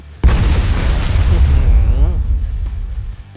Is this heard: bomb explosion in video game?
yes